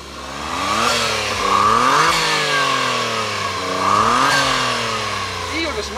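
A GR Yaris engine with the stock exhaust revs up hard twice, the pitch sweeping up and falling back each time, with a steady rumble between bursts and a voice faintly underneath.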